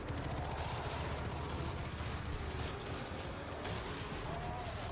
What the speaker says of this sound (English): What's shooting those arc grenades?